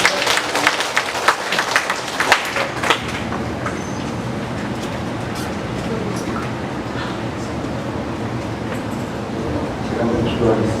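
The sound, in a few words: church congregation applause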